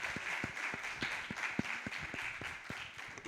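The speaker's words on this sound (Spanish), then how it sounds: "Un aplauso para Elizabeth." Audience applause at a panel talk on women in football: a modest, close burst of hand claps, fairly sparse and rhythmic, over a hum of room noise.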